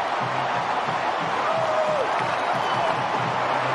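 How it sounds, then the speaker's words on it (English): A football stadium crowd roars after an Oregon Ducks touchdown against Boise State in 2008, a steady, thick, distant-sounding wall of cheering with faint voices beneath it. "And listen to this crowd now."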